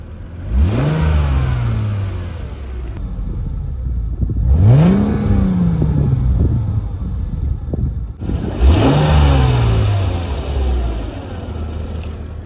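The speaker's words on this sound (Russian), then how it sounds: "Мотор только начал прогреваться." Mercedes CLK 209 engine warming up, revving three times in a row, each rev rising then falling back to a steady, loud, close idle rumble.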